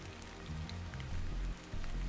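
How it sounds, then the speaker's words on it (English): Rain falls steadily in the video game Stellar Blade, a dense even patter with low rumbling underneath, continuous and moderately loud with no voices. "This must be Earth's rain."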